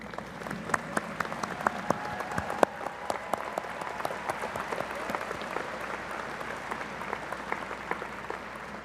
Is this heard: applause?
yes